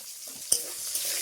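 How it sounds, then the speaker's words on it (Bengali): Chopped onion fries in oil with bay leaf, cinnamon and cumin in a pan, giving a quiet sizzle broken by a sharp stirring scrape, with no talk. "পেঁয়াজটা নেড়ে চেড়ে বাদামি বর্ণের করে ভেজে নেব"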